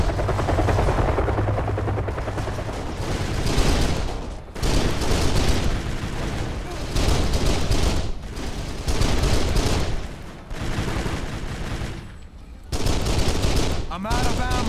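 A mounted machine gun in Kane & Lynch: Dead Men fires in long, loud bursts, each cut off by brief pauses, with a voice heard beneath the gunfire.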